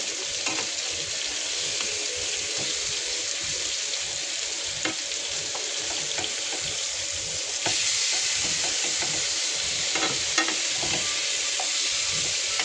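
Tandoori chicken pieces searing in a pan after being flipped, a steady close frying hiss with scattered crackles and pops that grows slightly louder partway through.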